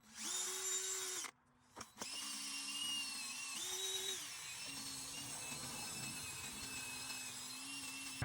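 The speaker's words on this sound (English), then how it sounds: "I'm going to use this not very abrasive wire wheel for the drill, and we're going to go ahead and clean off these contact points" A power drill fitted with a mild wire wheel scrubs the contact points of a brake rotor and rim on a 2019 Ford F-150, whining steadily, pausing briefly and restarting, its pitch dipping as the bristles bite.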